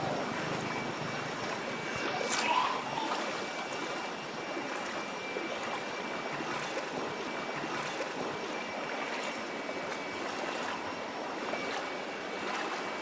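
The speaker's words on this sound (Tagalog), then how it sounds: "Lakas ng alon." Strong floodwater waves surge and churn in Metro Manila flooding during a typhoon, a steady loud rushing wash with repeated swells and splashes, no talk.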